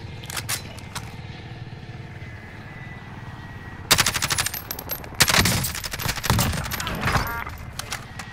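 Automatic gunfire in the video game Warzone, with rapid loud bursts of rounds that start abruptly, surge again in heavy volleys and keep rattling under a steady background rumble.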